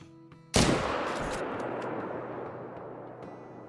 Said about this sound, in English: let's go for about a 320 yard shot here